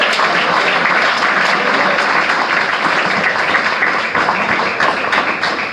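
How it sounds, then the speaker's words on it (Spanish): A church congregation claps together in a dense, steady burst of applause that holds for several seconds and eases slightly toward the end. "Denle un aplauso a Dios."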